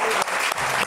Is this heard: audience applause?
yes